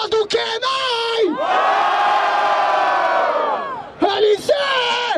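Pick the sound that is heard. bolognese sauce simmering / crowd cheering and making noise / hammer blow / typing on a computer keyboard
crowd cheering and making noise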